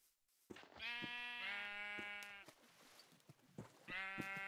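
Sheep in Minecraft bleat in three loud, close, wavering calls, each lasting about a second or more, with short quiet gaps and light clicks between them.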